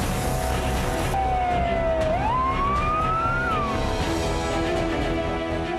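A fire engine siren wails in Mojokerto, Indonesia, on the way to a large fire, one slow tone rising and falling over a steady engine rumble, loud and fairly near.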